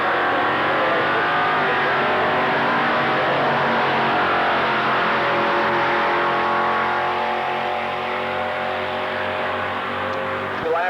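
The engine of a 1923 Model T pickup revs hard at a drag strip, a loud, continuous, sustained roar that holds steady and eases slightly near the end, with an announcer faintly audible underneath.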